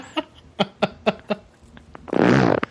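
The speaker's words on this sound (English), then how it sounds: "it's me moving the arm of the microphone going up and down" A series of short, squeaky creaks at a steady pace, then a longer, louder raspy groan as a microphone arm is bent up and down; it sounds like flatulence.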